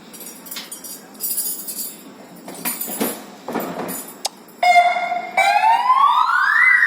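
A loud electronic security alarm siren at a Jain temple wails up and down after a few seconds of clinking and rustling, rising in pitch and holding strong to the end.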